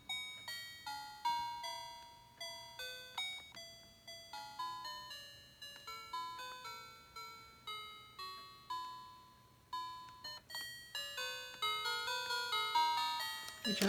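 An electric Christmas bell set chimes out a song, clear struck bell tones in a quick melodic sequence with decaying rings, close and fairly quiet, a faint hum underneath.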